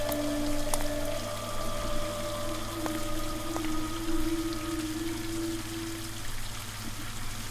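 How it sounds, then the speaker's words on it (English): A faucet runs in the video game Scratches, a soft steady water flow with faint trickling and a few thin tonal hums over a low background drone, quiet throughout and with no one speaking. "I need to remove the faucet, the hose, but keep the faucet running."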